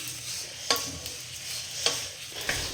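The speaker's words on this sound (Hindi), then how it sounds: "इसको हम भून लेते हैं, हल्का रोस्ट करेंगे" Dry red chillies lightly roasting in a pan, with a soft low hiss and three sharp ladle or spatula taps against the pan spaced across the short stretch, no voices.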